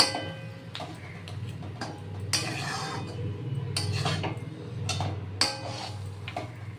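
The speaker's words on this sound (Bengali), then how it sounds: "এই মাছের মাথাটা আমি দিয়ে দিলাম হ্যাঁ একটু নাড়াচাড়া করে" A utensil stirs fish head and cabbage in a cooking pot, giving faint, irregular metallic clinks and scrapes over a low background hum, with no talk.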